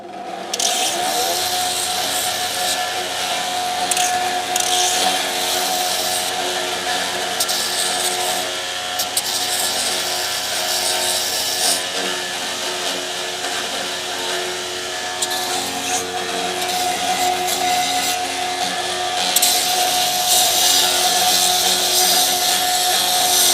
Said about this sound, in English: I'll hit that on the grinder real quick.